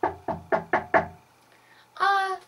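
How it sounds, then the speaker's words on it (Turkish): A father knocks on a solid bedroom door, five firm evenly spaced raps heard close and clear, then a short burst of a voice after a pause. "Duyduğunuz gibi babam odama girmek için kapıyı çalıyor."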